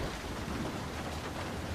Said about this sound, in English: And we got a severe thunderstorm.